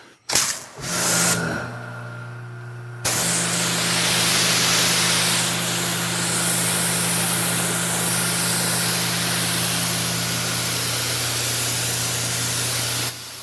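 Pressure washer spray rinsing soap off a BMW 1M car, starting with a few short bursts and then running as a continuous loud hiss of water with a steady pump hum underneath, close up.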